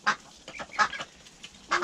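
Pet ducks, including a drake, quack in a few loud raspy bursts spaced irregularly, close by with no talking over them.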